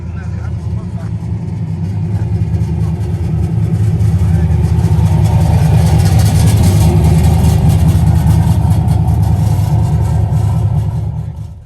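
An LS-swapped truck engine fed by a carburetor runs steadily at idle, a loud, deep, continuous rumble that swells slightly partway through, with people talking over it.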